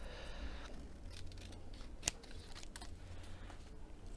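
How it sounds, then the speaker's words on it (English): Scissors trim the edge of a piece of card in a papercraft project, giving a single sharp snip in the middle against a quiet room background. "I can just run in with my scissors to take the rest off"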